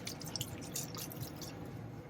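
Liquid poured steadily into a container while a vintage Disston hand saw is being soaked for rust removal, a continuous close splashing and trickling with drippy highs, no talking.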